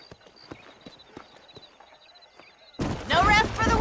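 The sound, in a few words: horses galloping, hooves clip-clopping, in video game Red Dead Redemption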